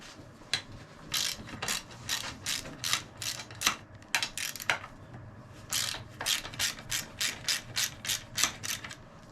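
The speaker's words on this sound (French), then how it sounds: "je décale d'abord les deux vis ici" A ratchet wrench loosening two screws on the fork clamp of a Suzuki RM 125 motocross bike, giving close, quick runs of sharp clicking strokes in steady bursts with brief pauses, alone without voices.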